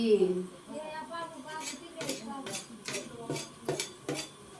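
Whole spices (cloves, cinnamon, poppy seeds and cardamom) are stirred in a metal cooking pot for pulao, giving a series of sharp utensil scrapes and clinks that repeat roughly every half second. A voice speaks faintly at the start.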